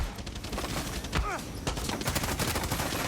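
Gunfire in the Far Cry 6 video game during a ship liberation fight, with dense rapid bursts and shots rattling continuously, loud and close, and a voice breaking in briefly.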